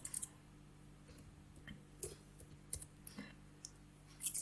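Scattered clicks of computer-keyboard typing, a few short irregular keystroke bursts, faint and close, over a low steady electrical hum.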